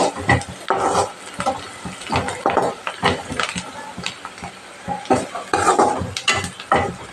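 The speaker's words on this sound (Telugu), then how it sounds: "పసుపు యాడ్ చేసుకొని కొద్దిగా ఫ్రై చేసుకోవాలి" Turmeric fries in a pan for a street-style Maggi masala, with loud, close spatula scrapes and clanks against the pan in an uneven rhythm over a light sizzle and no talking.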